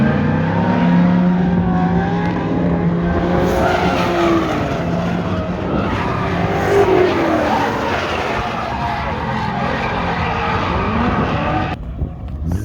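A drift car circling a track at a drift event, its engine revving hard and wavering while tires squeal and skid continuously, loud and fairly close, with no one speaking.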